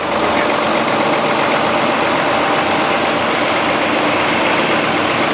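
A restored Oliver tractor engine running during a county fair parade, a loud, steady broadband rumble with a continuous idling drone and no break.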